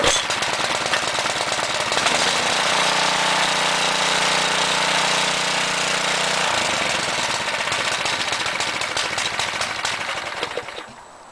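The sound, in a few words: garden tiller engine running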